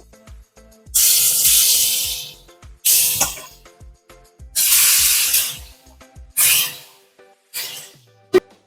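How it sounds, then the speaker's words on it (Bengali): Marinated paneer pieces dropped into hot oil for chili paneer, erupting in loud close bursts of hissing, spattering sizzle that surge and fade several times, separated by quieter gaps with faint clicks. "পনিরটা আমার ম্যারিনেট করা হয়ে গেছে এদিকে তেলটাও গরম হয়ে গেছে আমি এবার পনিরগুলো ভেজে নেব"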